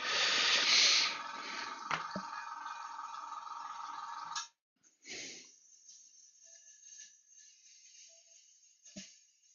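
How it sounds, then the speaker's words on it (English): An airbrush is purged of varnish with a loud, dense hiss of air for about four seconds, then stops short, followed by quieter intermittent bursts and faint spitting puffs. "So I'm just gonna give the airbrush a really good purge."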